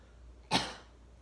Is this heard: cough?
yes